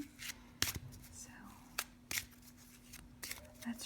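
A fresh deck of angel oracle cards being shuffled by hand in a quiet room, a few soft crisp riffles and flicks spaced irregularly, close and gentle, with a faint steady hum underneath.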